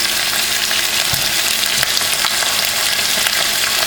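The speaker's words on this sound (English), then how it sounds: "just so it can get a little color as the tomato paste cooks" Tomato paste sizzles steadily in a cooking pot for a Haitian smoked turkey stew, a close, continuous hiss and crackle with a faint scrape or two of stirring and no talking.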